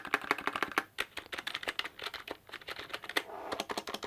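Rapid, fairly soft typing on a budget membrane gaming keyboard, a dense stream of muted clicks with brief pauses, heard close up with no voices.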